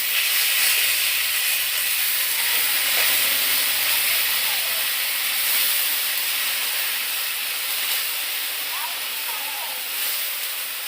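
Lentils added to a wok of fried onions sizzle in a continuous bright hiss that stays fairly even and close throughout, with faint background sounds underneath.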